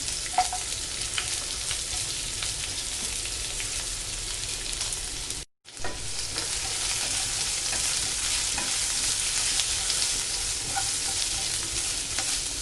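An onion fries with cloves, a small cinnamon piece, cumin and carom seeds in oil over a low flame, giving a continuous close crackling sizzle with a brief dropout midway.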